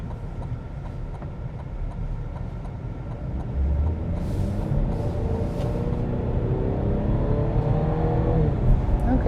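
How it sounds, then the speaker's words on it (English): A 2026 Cadillac CT5 Premium Luxury accelerating onto a highway in normal mode, its engine note rising steadily as speed builds, with road and wind noise growing louder toward the end. "I heard a little bit of that engine in there going"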